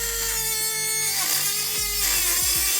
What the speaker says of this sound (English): I will be using a Dremel tool, but you can use an angle grinder or whatever cutter you have at your disposal.